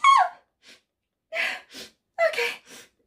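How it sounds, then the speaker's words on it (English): A sharp intake of breath followed by a sudden sneeze, then another gasping breath and a second sneeze, close and alone. "I'm about to sneeze."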